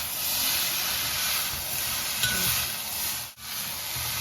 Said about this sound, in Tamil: சேர்த்துட்டு நல்லா 2 கரண்டி வச்சு இது மாதிரி கிளறி விட்டுக்கணும்